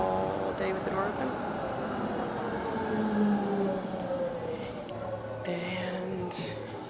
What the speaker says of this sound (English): And here comes the tram.